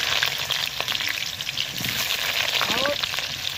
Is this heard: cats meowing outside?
no